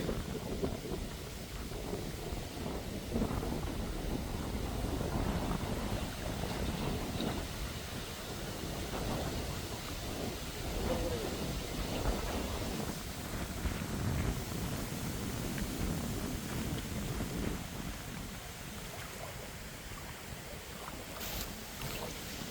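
Continuous blustery wind buffeting the microphone, a dense rumbling roar that never lets up, with faint water sounds of the Brahmaputra River beneath.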